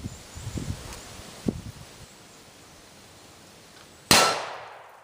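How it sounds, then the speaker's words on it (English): A .338 250-grain Match King bullet strikes a steel plate, producing a single sharp, loud metallic clang that rings out and decays, preceded by quiet outdoor rustling. "we're going to go ahead and step back and shoot it with 338, 250 grain Match King, and see if it penetrates"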